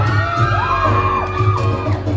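A crowd at a Thanksgiving event with Senator Bong Go shouts and whoops together in a loud, sustained burst of rising yells over a low musical backing.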